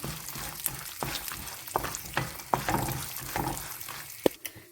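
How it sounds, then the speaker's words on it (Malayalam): Poha being stirred with cashews in a hot pan: a continuous soft sizzle with repeated scraping and clinking strokes of a spoon, close and moderately loud, with no talking. "ഇനി ഞാൻ ചേർത്ത് കൊടുക്കുന്നത് കാഷ്യൂ ആണ് നന്നായിട്ട് ഇളക്കി കൊടുക്കാം"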